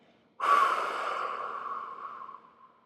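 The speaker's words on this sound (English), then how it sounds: "As you exhale, blow the air out audibly through your mouth, like you're blowing up a balloon" A long, steady breath blown out through the mouth, starting abruptly and fading slowly over a couple of seconds, close and alone.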